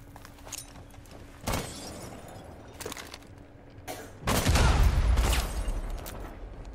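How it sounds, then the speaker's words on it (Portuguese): Gunfire exchange in Rainbow Six Siege, with several loud bursts of shots and impacts spread over a few seconds, the heaviest near the end, against low game ambience. "Ó, que ele tá querendo trocar tiro pelo buraco."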